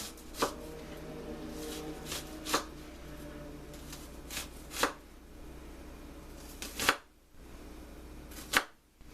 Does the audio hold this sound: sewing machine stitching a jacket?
no